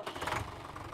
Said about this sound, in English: That's the starter noise with that.